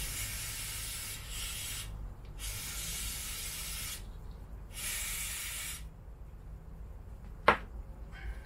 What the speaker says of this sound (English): Give it a spray in a minute with some cleaner.